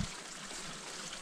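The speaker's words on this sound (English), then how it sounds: "Got a nice little stream going on down here." Small stream flowing outdoors on a hike near Tarbet, a faint steady trickling wash of water, continuous and alone for a brief moment.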